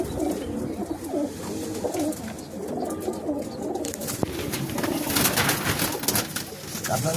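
Black Diamond pigeons coo in a low, continuous murmur, with many overlapping throaty calls from a flock kept close by, amid light rustling.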